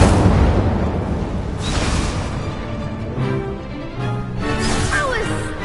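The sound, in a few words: Incendio fire spell exploding in the Hogwarts Legacy video game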